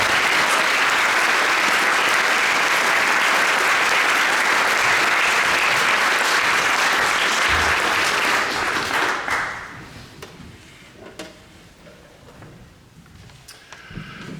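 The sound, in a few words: audience applause for young musicians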